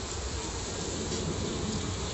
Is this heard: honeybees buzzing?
yes